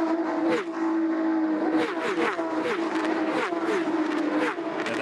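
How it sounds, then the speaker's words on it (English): A Porsche Carrera Cup race car at Bathurst, its engine loud and close, climbs steadily with repeated gear changes and rising pitch throughout, alone with no talk. "Alex Davison there, a quick shot of the Toledo Tools back, number 7 Porsche. He's charging through the field."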